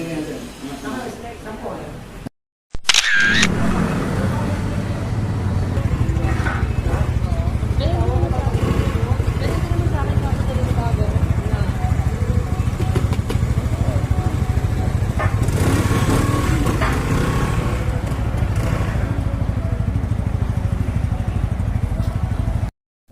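A QJ Motor Fortress 160 motorcycle engine runs steadily close by, a continuous mid-pitched idle throb with a slight rev near the middle, while people talk over it.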